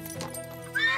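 A horse on a ranch whinnies briefly, a short high neigh rising at the end of a one-second moment of soft background shuffling, fairly faint and close.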